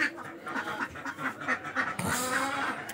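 Ducks on a small farm quack in a run of short, nasal calls, fairly close and loud, with a burst of louder, broader noise in the last second.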